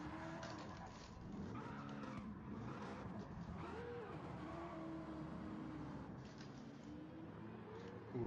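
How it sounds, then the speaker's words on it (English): A Mustang drifting in Gran Turismo 7, with sustained tire squeal and a varying engine note across the whole stretch, accompanied by sliding skid sounds and faint background voices. "Ooh, that Mustang sounds cool."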